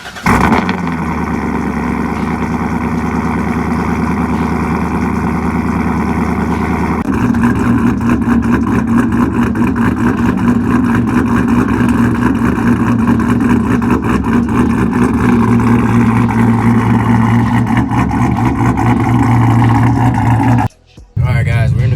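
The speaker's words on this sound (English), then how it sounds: "let's go ahead and get a cold start" Modified C7 Corvette with a supercharged LT4 V8 at cold start, a loud, steady, choppy idle that runs close and continuous, deepening after a few seconds, with a brief dropout near the end.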